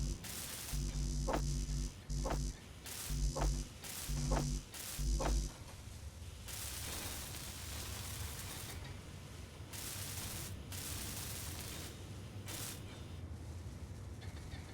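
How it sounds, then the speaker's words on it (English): Block welding in the Space Engineers game: a steady mechanical hum with crackling static, broken early by several sharp rhythmic bursts, then a long electrical drone with scattered clicks, and no talking. "I'll weld all these up"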